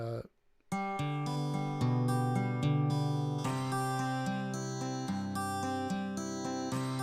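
Strummed and picked acoustic guitar run through a saturation effect, with a harsh, thin, buzzy distorted tone, playing continuously after a brief pause at the start.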